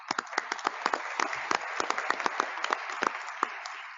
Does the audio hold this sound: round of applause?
yes